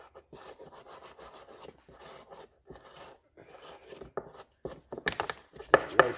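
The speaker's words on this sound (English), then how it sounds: "Brush off all that grime." Stiff brush scrubbing grime off the rear swing arm of a Honda 400EX ATV near a bearing seal, a series of close, dry rasping strokes in uneven bursts that grow louder and harsher toward the end.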